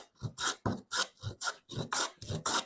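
A Stanley No. 40 scrub plane with a curved blade cuts across rough-sawn wood, making about nine quick, rasping strokes in a steady rhythm, close and fairly quiet.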